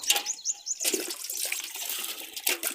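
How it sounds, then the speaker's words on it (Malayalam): Six or seven litres of water gush and splash into a container for setting rubber latex, a steady, close pouring that rises and falls in intensity. "ഒരു ആറേഴ് ലിറ്റർ വെള്ളമാണ് ഒഴിക്കുന്നത്"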